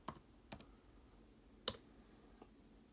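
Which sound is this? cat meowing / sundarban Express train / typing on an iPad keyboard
typing on an iPad keyboard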